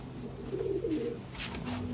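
Giribaj pigeons coo in a low, rolling murmur, one fuller call swelling midway and a steady ambient hum beneath, close and moderately loud with no talking.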